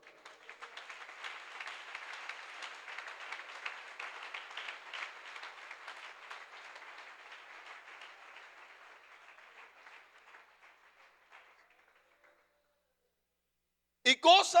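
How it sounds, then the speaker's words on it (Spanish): Applause from a church congregation, a broad steady wash of many hands clapping that holds for about ten seconds and then fades out into silence, followed by a brief loud burst at the very end. "Dele un aplauso al Señor"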